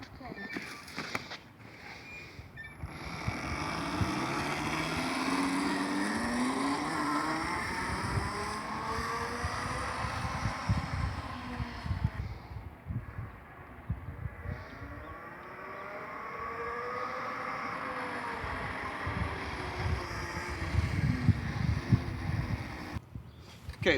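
A Razor E1000 electric dirt bike with a 1,000-watt, 36-volt motor being ridden, its whining motor rising and falling in pitch as it passes nearby, with voices talking over parts of it.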